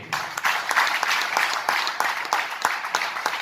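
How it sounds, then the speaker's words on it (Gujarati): A church congregation clapping loudly together during a Gujarati sermon on family: dense, sustained applause with sharp individual claps throughout, close and steady. "જોરદાર પ્રભુને તાળી આપીએ"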